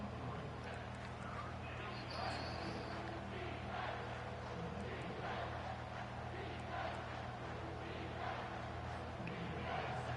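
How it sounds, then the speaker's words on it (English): Stadium crowd in an LSU college football video game, a steady, dense roar of cheering that holds at full strength across the whole stretch, with faint voices mixed into the wash. "this crowd will blow out a vocal cord to help this defense"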